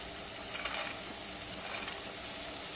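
Carrots and beans fry in a pan with onion and garlic for pasta, a faint steady sizzle with a few soft scraping stirs, quiet and close.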